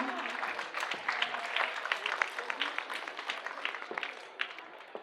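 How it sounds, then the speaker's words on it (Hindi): An audience at a family business motivational event claps energetically, a dense, lively burst of applause with distinct individual claps that gradually thins toward the end. "मैं चाहूंगी जोरदार तालियां बजती रहनी चाहिए।"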